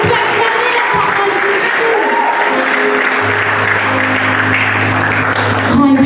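Church congregation applauding and cheering in a steady sustained wash of clapping, with a low organ or keyboard tone entering partway through and voices mixed in.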